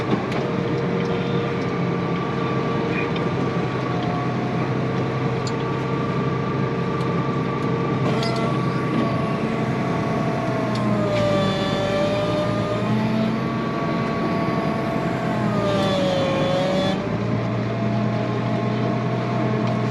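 A tractor drives onto a farm field after carrots, pulling a Grimme SE150-60 harvester, with a steady loud engine drone and rumble throughout and a few pitch shifts as the revs change.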